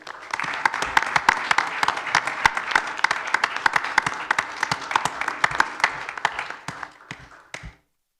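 A room at a village board meeting claps for a woman's 91st birthday, a steady indoor round of applause from a modest group that builds briefly and then tapers off to silence.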